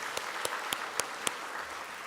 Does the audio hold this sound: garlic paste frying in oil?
no